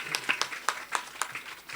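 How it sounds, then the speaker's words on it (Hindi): Scattered handclaps from an audience at a religious discourse, a loose burst of claps rising and falling over a couple of seconds, moderately distant and fairly faint. "तालियां"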